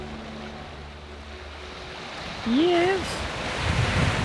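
Wind and waves around a sailboat at sea on the way to St. Augustine, a steady rushing wash that grows louder partway through, with a brief spoken reply and a rising whistle-like tone.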